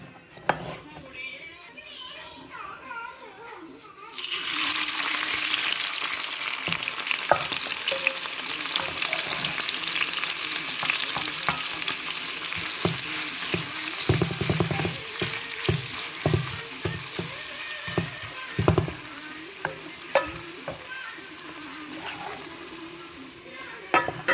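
Squid and potato pieces hit hot oil in a pan and burst into loud, continuous sizzling, with scattered clinks of a utensil stirring as the frying goes on.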